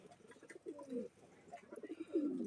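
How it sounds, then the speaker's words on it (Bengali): Caged pigeons coo softly in low, rolling phrases, several murmuring calls following one another at close range with no other sounds. "এখানে বেশিরভাগ কবুতরই গোসল করছে"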